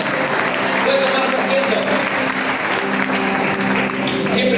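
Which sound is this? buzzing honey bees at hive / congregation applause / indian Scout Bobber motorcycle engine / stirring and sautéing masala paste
congregation applause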